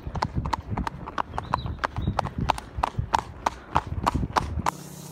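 Several horses' hooves clip-clop steadily on a paved road through a roundabout in Ireland, a close, regular rhythm of sharp strikes filling the clip, with a low rumble beneath and a change in background near the end.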